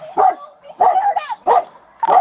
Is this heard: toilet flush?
no